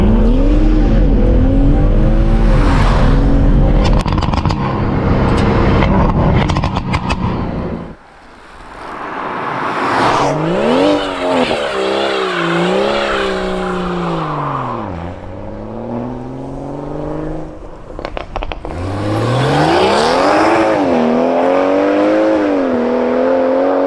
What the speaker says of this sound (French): On va faire peur aux écureuils, je crois, avec tout ce pop and bang.